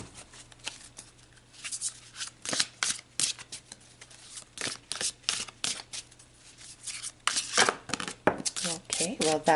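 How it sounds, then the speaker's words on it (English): Tarot cards are shuffled and riffled by hand in irregular papery bursts, close and moderately loud, with a soft voice talking intermittently underneath. "All right, let's pull some tarot."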